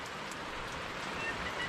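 Rain falls steadily at a lakeside campsite at Tooms Lake, a continuous close hiss of drops pattering on surfaces with no distinct breaks.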